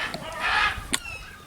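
A Barred Rock rooster in a small cage inside a pen, giving a drawn-out clucking call followed by a brief sharp note, close and moderately loud over a faint background.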